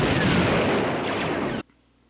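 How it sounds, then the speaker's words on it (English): A loud, sustained explosion roars from the Star Wars: A New Hope film for about a second and a half, then cuts off abruptly into near silence. "That explosion went kaboomy"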